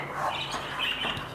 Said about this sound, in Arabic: وبرضك اوريكم العصافير وهي بتطير